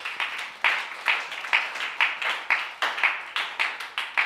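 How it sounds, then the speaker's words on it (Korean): Church congregation applauding, a small group clapping together in a steady, fairly even pulse of roughly two claps per second, moderately close and without talk. "박수 한번 쳐주세요"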